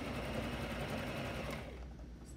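A sewing machine stitching slowly over double seams where the underarm and side seams meet, a steady, close mechanical whir that softens toward the end.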